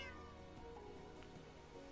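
A cat in a video game meows a few times, soft and close against a faint background hum, with no one talking.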